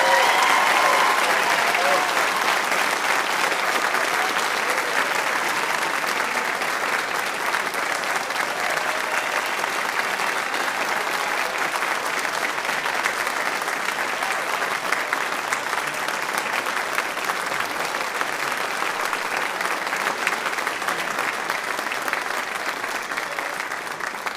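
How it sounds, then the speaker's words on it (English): Sustained applause from a large audience at a baccalaureate ceremony, dense and even, continuing loudly for over twenty seconds. "Can we give him a huge round of applause?"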